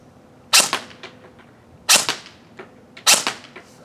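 Lancer Tactical Gen2 M4 airsoft gun firing outdoors, three separate sharp snapping shots spaced over about four seconds, loud and close with short decays.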